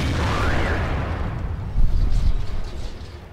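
A heavy tank cannon shot in World of Tanks historical battles with an IS tank, a loud, close, rumbling boom that swells and rolls off over a few seconds.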